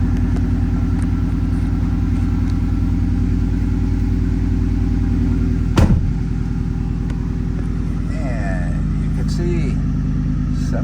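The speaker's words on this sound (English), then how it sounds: "now we're going to take the key and fire this truck up" A 2008 Ford F-150 Roush Nitemare truck's engine rumbles steadily at idle just after starting, a loud, close, continuous low throb with a brief knock partway through.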